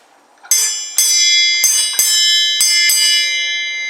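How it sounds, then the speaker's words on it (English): An old school bell in a museum rings six times close by, each clear metallic strike ringing on and overlapping the next. "You got the old bell in here"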